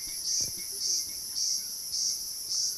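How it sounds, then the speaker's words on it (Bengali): Crickets chirp in a forest in regular, evenly spaced pulsing bursts that form a steady, high-pitched trill over a quiet background. "ঝিঝি পোকার ডাক।"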